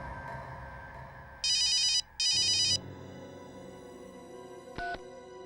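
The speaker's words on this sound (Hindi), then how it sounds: "अभी 1 मिनट में फोन की रिंग बजेगी" Telephone rings with two loud electronic trills in quick succession, each about half a second long, followed by a brief beep and a quieter hum behind.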